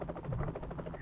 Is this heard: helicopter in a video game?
yes